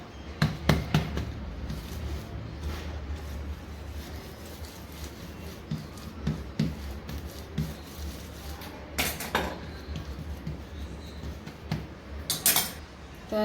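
Sesame chikki is rolled out with an oiled rolling pin, giving irregular wooden knocks and clattery taps that come in bursts, with a few sharper clacks standing out at a moderate level and no talking.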